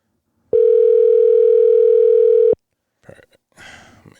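A steady telephone dial tone sounds loud and alone for about two seconds while a call is being placed, then cuts off abruptly, followed by faint voices.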